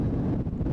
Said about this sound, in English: Super windy here today.